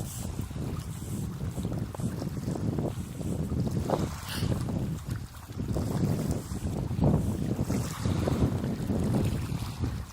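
Outdoors in Norway at night, wind buffets a microphone in a steady low roaring rumble with gusty swells throughout, loud and close, with no voices.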